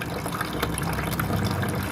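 Water gushing through a blocked instant geyser pipe being flushed with diluted acid, a steady loud rushing and splashing flow with scattered gurgles, close by and without speech.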